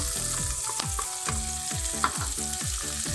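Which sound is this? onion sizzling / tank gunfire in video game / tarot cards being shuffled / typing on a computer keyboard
onion sizzling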